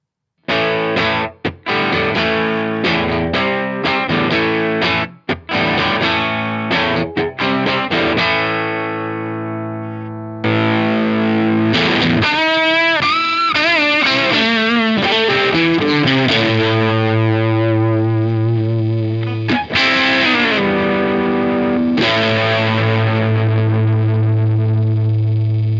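A silicon-transistor Big Muff fuzz pedal drives a heavily distorted electric guitar through sustained chords and riffs, loud and thick, with short choppy strums giving way to long ringing notes.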